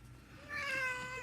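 A house cat gives a single drawn-out meow close by, rising and then holding, with a quiet room behind it.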